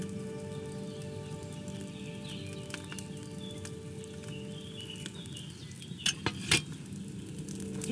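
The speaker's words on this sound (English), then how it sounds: "Hear that bubbling? It's boiling." Wine simmering in a cauldron over a flame in the medieval game Kingdom Come Deliverance 2, a steady low bubbling and crackling bed with faint clinks and a couple of sharp knocks near the end.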